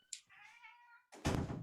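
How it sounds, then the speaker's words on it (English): A domestic cat gives a single drawn-out meow close by, then a brief soft thump follows. "Sorry, that's my cat."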